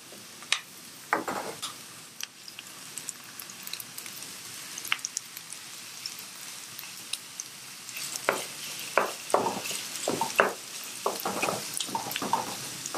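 Ground meat frying in a pan for an eggplant and meat pie, with faint sizzling and irregular scraping and stirring clicks close by, quiet overall with no talking.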